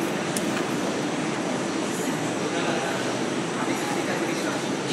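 An underground metro train at Girgaon station in Mumbai gives off a continuous loud rumble and roar that fills the whole stretch without a break.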